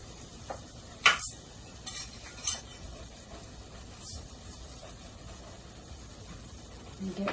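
Cornbread batter being stirred in a bowl beside a wood stove, a few soft scraping strokes and light clinks of the spoon, faint and intermittent, with quiet room noise between them.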